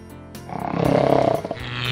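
A comic snoring sound in a TV ad for a Snore and Go pillow, a loud rough rattling snore that builds into a long vibrating drone and then breaks off into a few sputters.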